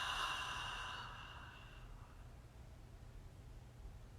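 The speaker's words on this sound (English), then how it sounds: "give me one more deep inhale. And we're going to exhale with sound." A deep exhale voiced aloud during a guided breathing exercise, starting with a strong breathy rush that fades within about two seconds into quiet background.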